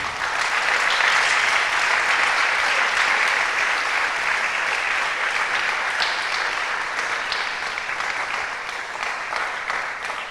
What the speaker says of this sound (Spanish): Yo no sé si usted le puede dar un aplauso al Señor